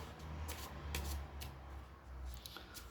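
Tarot cards riffle and slide against each other in repeated soft bursts of papery flicks and brushes, close and fairly quiet, with no voices.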